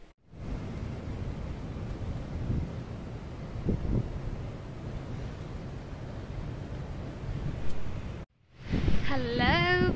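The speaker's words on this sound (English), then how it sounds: "I hope you can hear me because the wind is quite hectic." Heavy wind buffets the microphone on a windswept Southern Cape coast, a steady low rumbling roar that runs almost nonstop, breaks off briefly, then returns with a voice speaking over it.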